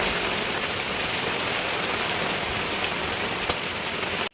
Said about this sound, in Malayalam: അപ്പോൾ പുറത്ത് നല്ല മഴ പെയ്യുന്നുണ്ട്.